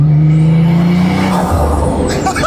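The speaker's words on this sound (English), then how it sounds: "the engine noise coming through the cabin that you get on the older 930s" Gunther Werks Porsche 930 engine droning through the cabin, a strong low steady tone that loosens into a rougher, broader roar partway through, with no voices.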